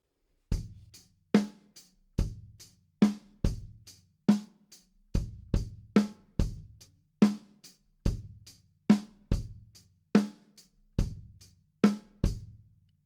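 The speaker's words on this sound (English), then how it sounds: "I'm going to show you a typical rock groove" A drum kit plays a steady rock groove alone in 7/8, with punchy kick and snare hits in an odd-meter cycle.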